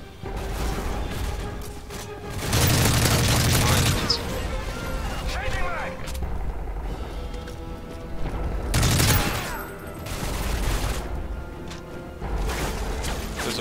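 Sustained gunfire from Modern Warfare 3 Spec Ops, loud bursts of rapid shots around two to four seconds and again near nine and eleven seconds, with continuous battle noise and background voices between volleys.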